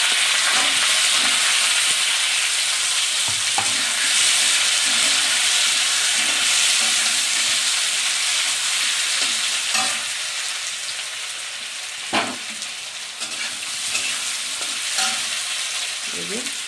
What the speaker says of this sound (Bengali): এই যে দেড়টা পেঁয়াজ কুচিয়েছি, এইটা দিয়ে দিচ্ছি, সঙ্গে আলুও দিয়ে দেবো।